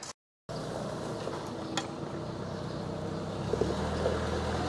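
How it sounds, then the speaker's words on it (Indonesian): A truck arrives with fill soil at a house construction site, a steady low engine rumble that grows slightly louder toward the end, with no talk. "Ini ada truk yang datang nih."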